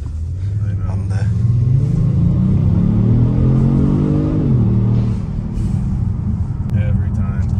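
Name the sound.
car engine revving, Kia/Hyundai/Genesis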